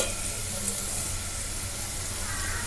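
Seasonings and vegetables sizzling in a pan for atukula upma (poha upma): a soft, steady frying hiss, fairly quiet and unbroken.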